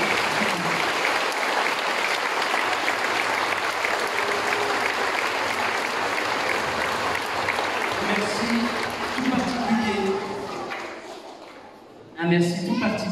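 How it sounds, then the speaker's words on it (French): An audience in a community hall applauds the town mayor with a full round of clapping that fades toward the end, after which a few voices talk over the thinning noise. "Merci beaucoup d'applaudir Monsieur le Maire Daniel Lescon ainsi que l'ensemble de la ville de Watt"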